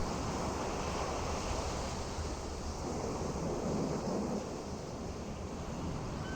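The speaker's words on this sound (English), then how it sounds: "The wind noise is a little loud." Steady, loud wind roars continuously like rushing surf in the PC game Amerzone: Explorer's Legacy, a broad unbroken wash of noise with no other sounds standing out.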